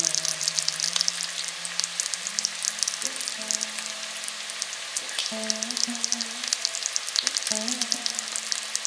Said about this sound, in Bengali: সমস্ত মশলা আমি ওই কড়াইয়ের মধ্যে ভালো করে আমি কষে নিচ্ছি